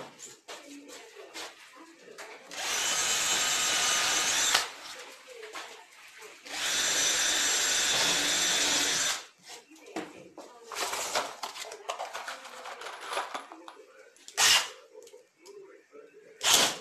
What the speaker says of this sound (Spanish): le voy a poner un tornillo de 50 milímetros